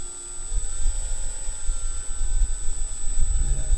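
An electric motor spinning at about 1600 RPM on an Arduino RPM counter rig, a steady whirring drone with a constant high whine on top, close and continuous without talk.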